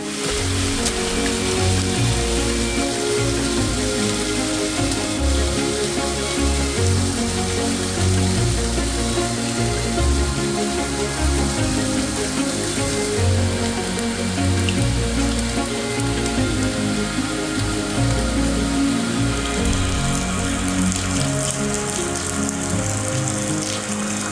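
Steady rain patters on a mountain hiking trail, a dense, even hiss of drops close by that continues without a break.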